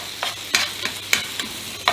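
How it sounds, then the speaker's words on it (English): Ground beef frying in a pan for goulash, with steady sizzling broken by about six sharp scraping strikes as a utensil chops the meat into crumbles. "we keep chopping up the ground beef while it's in the pan"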